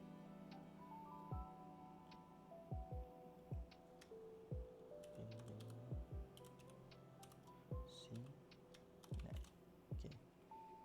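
Keystrokes on a computer keyboard come in short, separate bursts spread over about ten seconds, with a steady tonal background running underneath and no talking.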